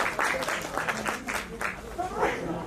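Audience applause at a Bharatanatyam arangetram dance recital, a steady patter of clapping from a hall crowd with voices mixed in throughout.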